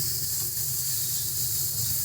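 Spice masala for chana masala frying in a pan, a steady close hiss and sizzle with no pauses.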